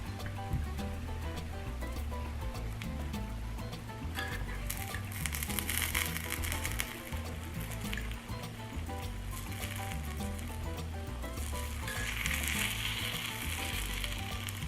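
Spanish omelet egg mixture sizzling steadily in a frying pan, a continuous close crackle with small spattering pops and occasional faint stirring, no voices.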